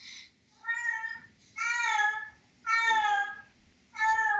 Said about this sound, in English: my cat, who is not hungry but just howling